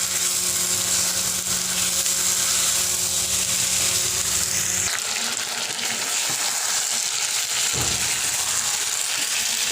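Local country chicken, already salted and spiced with turmeric, frying on low heat in a pan, a continuous close sizzle with occasional stirring, no talking.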